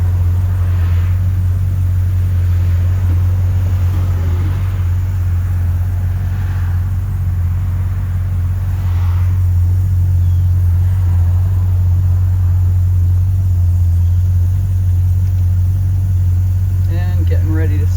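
A 1981 Glassic Replicar Model A Phaeton driving on busy public roads, its engine giving a loud, constant low drone throughout, heard from on board, with faint voices now and then.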